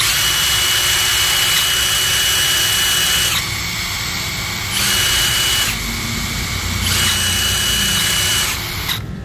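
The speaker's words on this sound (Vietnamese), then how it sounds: "chúng ta sẽ cùng lắng nghe hai tiếng máy cùng hoạt động" DeWalt DCF894B and Milwaukee 2861-20 cordless impact wrenches run at the same time, giving a loud, continuous high-pitched motor whine that steps between levels as the triggers are pressed and released over about nine seconds.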